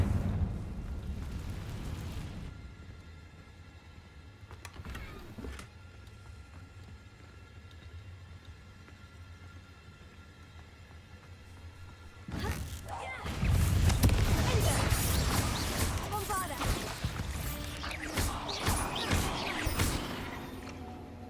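A fire-blast spell cast in a video game sets off loud, roaring explosive bursts with crackling debris that fill the second half. A softer burst comes earlier, and quiet game ambience runs in between.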